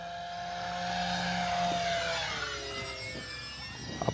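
A Horizon Hobby P-51D June Nite V2 RC model warbird, 1.2 m span, flies past with its electric motor and propeller whining, the sound swelling and fading as it passes, alone and moderately distant.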